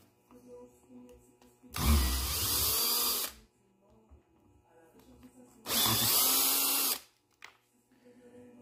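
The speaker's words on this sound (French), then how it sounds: "On va dévisser ça. Moi, je l'ai en drill." Power drill unscrewing a screw on a Husqvarna 455 Rancher chainsaw, in two loud whirring bursts of about a second and a half each, separated by a quiet pause with faint background noise.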